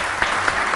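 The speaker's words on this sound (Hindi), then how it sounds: "बिल्कुल जोरदार ताली।" Studio audience applause on an Urdu-language morning talk show, a dense, steady wash of clapping from many hands filling the short moment without speech.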